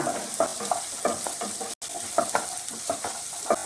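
Onion sautés in a pan with urad dal for a Kerala-style ulli chammanthi. Quick, rhythmic stirring scrapes sit over a steady sizzle, with one brief dropout midway.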